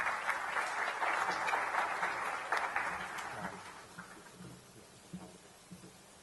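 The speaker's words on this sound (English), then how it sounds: "Round of applause for Rob." Audience applause welcoming a speaker to the stage at an employer panel event, a full clapping wash from a seated crowd that gradually fades to a few lingering claps.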